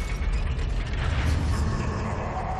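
A heavy door-locking mechanism grinds shut in the video game Darksiders, with loud mechanical creaks, ratcheting clicks and rumbling gear movement that continue for the whole stretch, close and prominent, with no talk on top.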